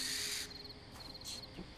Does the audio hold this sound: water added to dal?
no